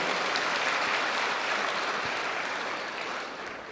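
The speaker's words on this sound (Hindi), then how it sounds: "हम सब उनके लिए ताली बजाएंगे।" A hall audience at a spiritual talk claps in a dense, steady wash that thins slightly toward the end.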